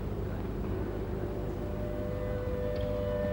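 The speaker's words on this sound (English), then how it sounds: "Then the air raid siren wails again" A wartime air raid siren wails in a steady sustained tone over a low rumbling background, fairly faint and distant, with no voices.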